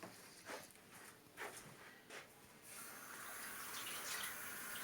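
Onions and garlic getting washed under a running kitchen tap, a few handling splashes at first, then a steady stream of running water, close and fairly quiet.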